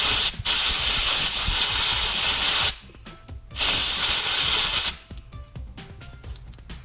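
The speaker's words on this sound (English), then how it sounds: "I take my air gun and I take something that happens to be at hand, like a pen, and I hold it down and I blow it out with the compressed air" Compressed air from an air gun hisses in three long, loud blasts through bearings held in place by a pen during cleaning, separated by short quiet gaps and ending with softer intermittent clatter.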